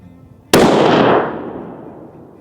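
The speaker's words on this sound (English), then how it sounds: "338 Lapua Magnum with no suppressor," A single loud, sharp blast from an unsuppressed .338 Lapua Magnum rifle fitted with a muzzle brake, cracking suddenly out of quiet and trailing off in a long rolling echo.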